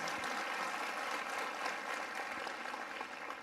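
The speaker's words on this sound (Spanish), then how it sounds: "Qué bonito aplauso eso." A church congregation breaks into sustained applause, a dense wash of clapping heard from within the room that holds steady and tapers slightly at the end.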